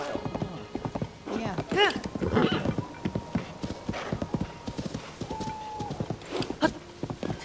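Horse hooves clip-clopping at a steady gallop with a sharp whinny, from a horse in the video game The Legend of Zelda: Tears of the Kingdom; game music and people talking run over it throughout.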